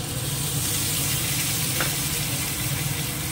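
Garlic frying in hot oil with already browned onions in a wok, giving a dense, even sizzle close by that holds steady, with one faint clink partway through.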